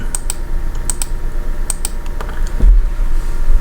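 Repeated computer mouse clicks while formatting an Excel spreadsheet, sharp small ticks at close range in quick pairs with steady gaps, set against a low background hum.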